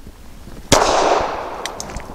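A single sharp report from a Springfield Armory 380 911 pistol fired at a target, loud and close, followed by a decaying echo tail and a few faint clicks and rattles afterward.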